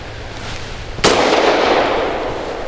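A single sharp report from a Grand Power P45L pistol loaded with Hornady Critical Defense ammunition, a loud close crack that trails off into a long ringing echo against low background noise.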